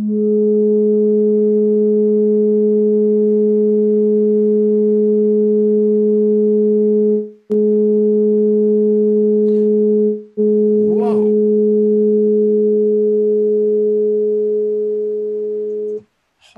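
Sonified Cassini spacecraft data from a pass near Neptune, played back as a steady electronic drone of layered sine tones, broken by two brief dropouts and a short swooping chirp near the end.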